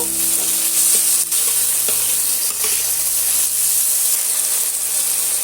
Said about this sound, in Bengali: নুনটা দিয়ে আবারও ভালো করে আমি টমেটো আর পেঁয়াজের সঙ্গে এইভাবে কিছুক্ষণ ধরে ভাজা ভাজা করে নেব